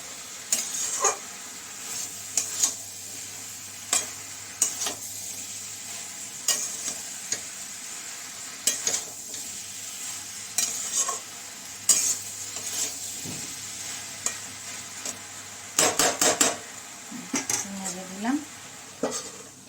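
Spices with turmeric and cumin frying in a pan, a soft continuous sizzle punctuated by regular scraping and clinking strokes of a spoon against the pan, close and clear, with a brief burst of clattering near the end.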